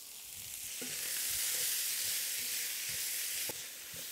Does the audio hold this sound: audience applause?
no